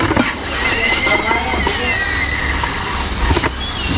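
Hot water splashes and sloshes into a cooking pan with sauce, giving a continuous liquid gurgle with faint sizzling and a low background hum. No talk is heard over it.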